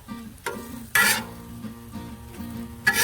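Hash browns on a Blackstone griddle give off a steady, close sizzle, broken by a couple of bright metallic spatula scrapes and stirring clatters.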